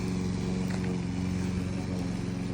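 A lawn mower runs steadily while cutting grass on a hot day, a loud continuous engine drone with a dense buzzing tone and no pauses, close to the listener.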